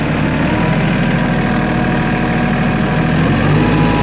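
A small LS tractor of about 25 net horsepower pulls away in first gear, giving a loud, steady low diesel drone with even vibration throughout and no voices.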